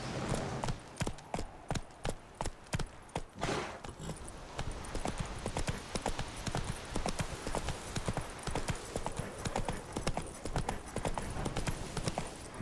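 Horse hooves clip-clopping steadily in The Witcher 3 video game as the horse is ridden, a close, loud and regular rhythm throughout, alone.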